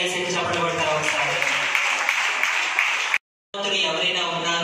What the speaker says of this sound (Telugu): గట్టిగా యేసుని చప్పట్లు కొడతారా ఒకసారి?